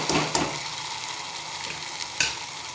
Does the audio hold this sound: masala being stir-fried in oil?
yes